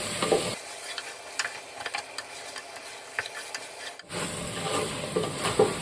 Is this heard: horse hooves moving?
no